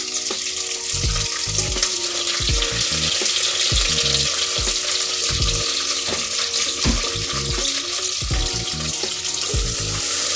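Sliced green chilies and mint leaves frying in a pressure cooker give a constant close, bright sizzle, broken by repeated scraping taps of stirring.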